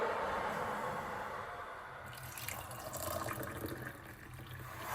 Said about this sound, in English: I just turned it on and the water will boil shortly